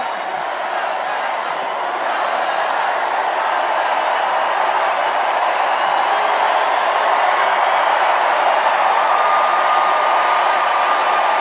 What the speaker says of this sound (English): Look, the crowd doesn't even want her to speak. They're like, keep cheering.